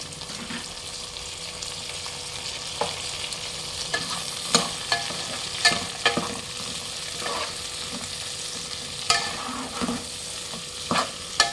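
Tomato pieces frying with browned onions in a pan for mutton biryani, a soft steady sizzle under repeated scraping and clattering stir strokes, moderately quiet and close, no voices.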